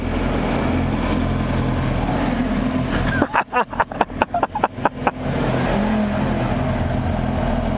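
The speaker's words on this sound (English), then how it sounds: "I go underneath the bridge and rev my big, loud, stock exhaust" A motorcycle with stock exhaust revs in a quick series of sharp throttle blips, loud and close, between stretches of steady engine rumble.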